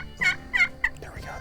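Wild turkey toms gobbling in the woods, three quick rattling gobble calls in a row, fairly close and clear, followed by a softer trailing call.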